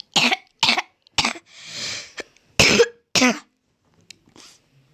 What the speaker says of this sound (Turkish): Sesimden öksürük geliyor